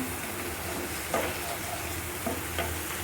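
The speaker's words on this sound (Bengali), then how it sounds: "এই যে মশলাটা কিন্তু আমার প্রায় কষে গিয়েছে" Bengali spice paste frying in a pan for a mola fish and ash gourd chorchori, a steady close sizzle with a few soft stirring scrapes, no voices over it.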